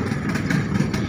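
A ship's rescue boat engine runs steadily at close range, a dense, even mechanical drone with a slight rhythmic pulse and no voices over it.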